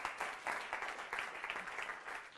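A live audience at a mentalism stage show breaks into applause, a dense, steady patter of many hands clapping that carries evenly through the whole stretch without voices.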